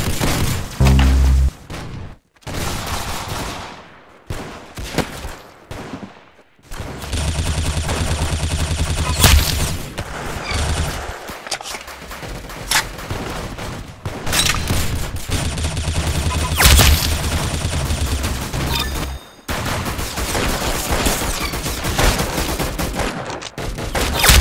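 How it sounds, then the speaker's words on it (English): Heavy, continuous gunfire fills nearly the whole stretch, with dense volleys of repeated shots, a few brief gaps and loud booming bursts, close and overwhelming throughout. "Very good shooting."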